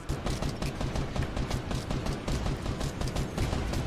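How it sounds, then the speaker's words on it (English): Dense, continuous bursts of rapid video game gunfire crackle throughout, loud and steady with no pauses. "Shots popping off. Oh, they're popping off."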